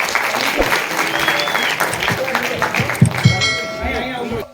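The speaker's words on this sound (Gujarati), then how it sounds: "જોરદાર તાળીઓ થઈ જાય એમના માટે" Applause from the audience at a Gujarati film premiere show, a sustained wash of clapping that swells and fades over a few seconds, with voices mixed in underneath.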